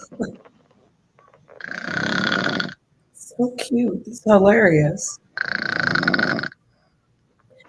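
Women snoring, heard as several separate rasping snore breaths with gaps between them, loud and close. Someone briefly comments between two of the snores.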